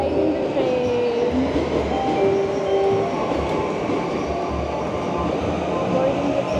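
Inside a moving train in Japan, a loud continuous rumble and rushing roar with faint squealing tones from the wheels, steady throughout.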